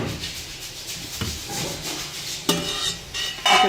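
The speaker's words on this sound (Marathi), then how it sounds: "आता हे सर्व मिक्सरच्या भांड्यात ओतून घ्यायचं आहे." Spices and chillies poured into a steel mixer jar give soft scraping, rustling and light clinking for a few seconds, ending in a couple of sharper knocks, with no voices.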